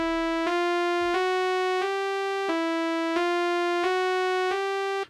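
A rendered audio clip replayed as a note in the Bitwig sampler repeats as a clean, bright, tonal synth note with rich harmonics, retriggered about seven times at a steady pulse over five seconds, played alone.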